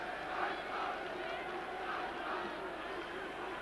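Brøndby football stadium crowd of some fifteen to seventeen thousand spectators, a distant, continuous murmur with swelling chant-like waves.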